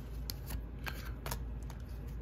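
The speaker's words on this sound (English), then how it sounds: "Yes, the packs are opening, you know, so much easier than last year." Crisp crinkling and tearing of Upper Deck hockey card pack wrappers and sliding cards, several short rustling bursts over a low steady background hum, close and without talk.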